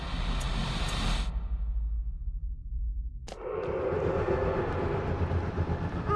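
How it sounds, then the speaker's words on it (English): A train running in the video game Alice: Madness Returns, a dense rumbling rail roar that cuts out abruptly into a low hum, then bursts back in with a sharp hit and keeps rolling. "My Lizzie, what is this train's destination?"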